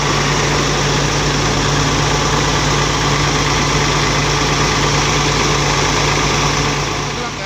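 A bus engine idles steadily and loudly nearby: a continuous low rumble with a constant hum and no change in revs for the whole stretch.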